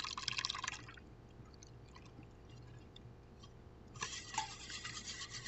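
A 12-ounce can of evaporated milk poured into a flan mixture in a bowl, a short soft liquid stream at the start and again near the end, close and quiet, with faint kitchen handling in between.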